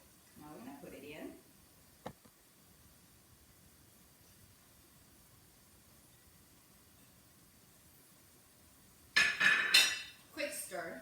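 Chopped green onion being stirred into Shanghai sticky rice cakes in a cast iron pan, with a brief clink and then a loud burst of metal scraping and clattering near the end. A voice is heard faintly at the start.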